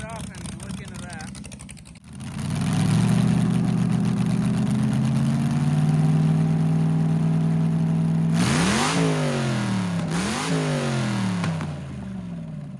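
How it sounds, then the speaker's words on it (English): An LS-swapped Crown Victoria V8 settles into a loud, steady idle after a brief starting shuffle, then is blipped twice near the end, each rev rising sharply and falling back to idle. "Let me give it a little rev for you."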